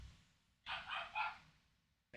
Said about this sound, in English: that dog is barking his ass off